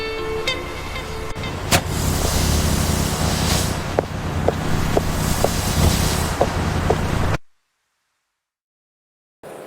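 A cartoon bus pulls away from a stop with a steady engine rumble and wind noise and a few faint ticks, then the sound cuts abruptly to near silence for the last two seconds.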